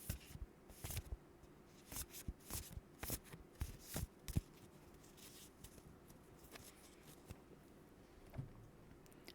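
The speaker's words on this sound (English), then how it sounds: "Card shuffling." Close, quiet shuffling of a tarot deck: a dense flurry of papery riffles and taps for about four seconds, then sparser, fainter card sounds, with no voices.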